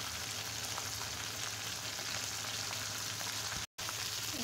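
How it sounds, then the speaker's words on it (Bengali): Fish seasoned with salt sizzling as it fries in hot oil in a pan, a steady, dense crackle running close and unbroken, with a brief dropout near the end. "আমি মাছগুলি ভাজতে দিয়ে দিয়েছি।"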